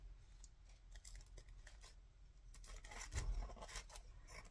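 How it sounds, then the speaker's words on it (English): Scissors trim the overhanging edges of an altered playing card, a series of soft, close snipping and rasping cuts with a slightly louder snip near the end, no talking. "So I'm just going to cut off the bits that are overhanging."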